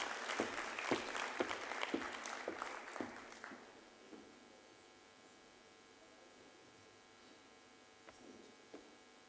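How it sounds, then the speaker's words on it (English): Audience at a closing plenary forum session applauding as a professor is welcomed, a burst of clapping for about three seconds that fades into quiet room hum with a stray clap or two. "a round of applause for him, please"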